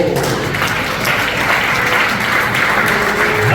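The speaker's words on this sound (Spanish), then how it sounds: "¿Cuánto le dan un aplauso a Dios?" A church congregation applauds God during a Spanish-language sermon, a loud, dense, continuous wash of many hands clapping close by that holds steady throughout.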